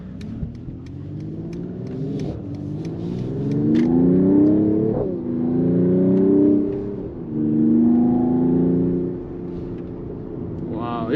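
A 2023 Mercedes-AMG GT 43 4-door Coupe accelerating hard through several gears, the engine note rising in pitch and dropping at each shift, loud and steady from inside the car.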